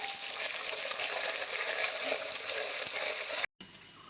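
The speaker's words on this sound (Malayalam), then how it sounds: "ചുമന്ന ഈ മുളകും വെളുത്തുള്ളിയും നന്നായിട്ട് മൂത്ത് വന്നു നമുക്ക് കറിവേപ്പില ഇടാം" Curry leaves hit hot oil with red chili and garlic for a bilimbi pickle, giving a dense, bright hiss and sputter that holds steady, breaks off for a moment, then resumes.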